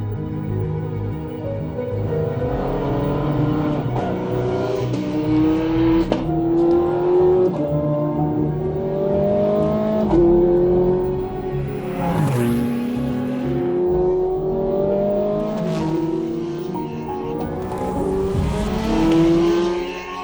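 Ferrari 430 Scuderia V8 with its single-clutch gearbox while driving, a loud, continuous engine note rising through the revs with brief dips at each gear change, heard up close and alone.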